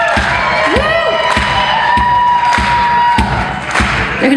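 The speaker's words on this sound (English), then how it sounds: "Keep the clapping going" An audience claps in a steady rhythm and cheers at an evening show, with loud sustained crowd noise and rhythmic thumps, while a tone carries beneath.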